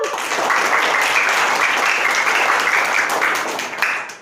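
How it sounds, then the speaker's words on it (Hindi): A class of children claps in a lesson, giving loud, lively applause that holds steady for about four seconds before fading out. The clapping is close and dense, with no talking over it. "ताली बजा लो"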